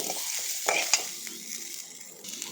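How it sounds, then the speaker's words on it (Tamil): Curry leaves, small shallots and tomato sautéing in a pan, a soft continuous sizzle with a few scraping stirs and light clinks, close and moderately quiet, no talk. "கருவேப்பிலை, கொஞ்சமாக சின்ன வெங்காயம் போட்டு நல்லா வதக்கணும்."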